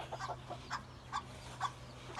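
Soft, quiet clucking from chickens nearby, a series of short bursts spaced irregularly over a low steady hum.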